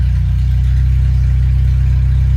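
Old yard car engine idling steadily on fresh fuel, a loud, close, even low rumble with a regular pulsing beat and no revving.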